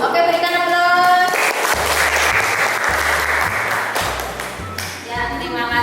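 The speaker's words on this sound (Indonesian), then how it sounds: "Oke, berikan aplaus." Classroom applause, a dense burst of clapping from students that swells and fades over a few seconds, with musical tones around it.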